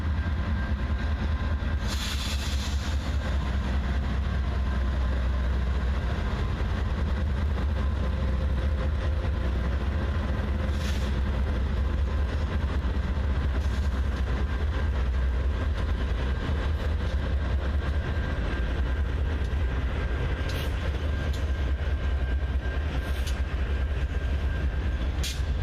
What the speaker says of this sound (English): Our last train for our trip finally comes into view.